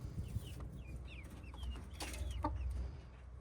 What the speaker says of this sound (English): The chicks have decided to join me down here